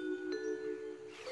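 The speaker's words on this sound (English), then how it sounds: "Ding dong!" A cartoon doorbell rings once with a sustained, bright two-tone chime that holds steady and then fades, close and clear against a quiet background.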